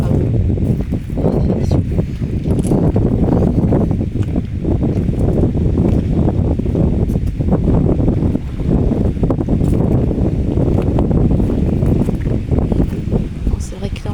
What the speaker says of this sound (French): on voit qu'on est au bord de l'eau parce qu'il y a pas mal de vent